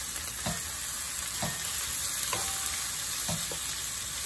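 Chopped onion, garlic and bay leaf fry in hot oil for Indonesian shredded beef balado, a constant close sizzle broken by four evenly spaced scrapes of a stirring utensil; no voices.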